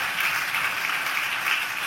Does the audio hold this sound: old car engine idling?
no